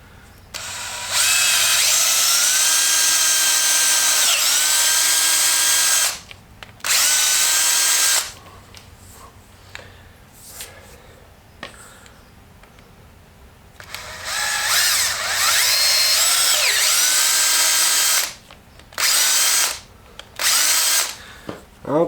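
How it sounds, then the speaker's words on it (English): A power drill reams out holes in a homemade gear sled, whining loudly in several long bursts with quiet gaps between, the motor pitch sliding as it spins up and slows. "now when you got those drilled out"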